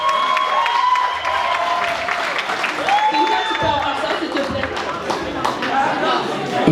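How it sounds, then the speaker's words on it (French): A live audience at a televised music event claps and cheers in a sustained, dense wave, with a presenter's voice and background music running over the crowd noise. "On l'applaudit bien fort, mesdames et messieurs."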